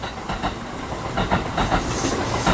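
A Kintetsu train runs past at Ise-Nakagawa Station with steady rumbling wheel noise and rhythmic clickety-clack over rail joints, continuous and fairly close throughout.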